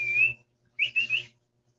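A person whistles to call a dog, giving one sustained high note, a brief pause, then a quick run of three short whistled notes, close and clear over a faint low hum.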